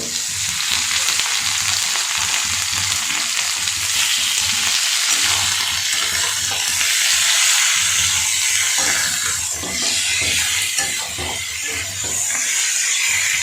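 Drained chicken pieces frying among well-browned onions in a pan, a steady loud sizzle and hiss with occasional stirring clatter, with no voices.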